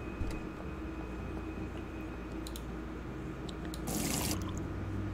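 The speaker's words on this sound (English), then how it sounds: "Pour water into the pot" Water poured into a pot in the brewing game Brewpub Simulator, a continuous trickling stream with faint drips that grows into a louder, brighter gush near the end.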